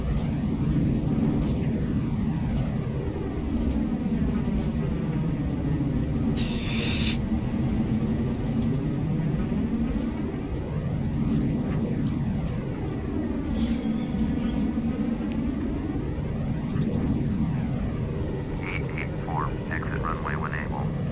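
Airliner in Flight Simulator X landing at Birmingham with reverse thrust, a loud, steady jet engine roar with shifting, sweeping tones throughout and a few faint short blips on top.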